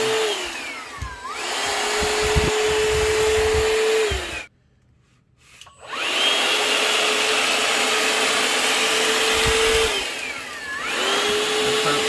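A Shark VACMOP vacuum cleaner hums steadily up close, its motor pitch sliding down and back up several times, with a short pause in the middle where it nearly cuts out before starting again.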